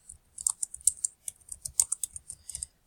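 Rapid, close clicking of keys on a computer keyboard as a title is typed, a brisk irregular run of crisp taps with brief pauses, heard alone.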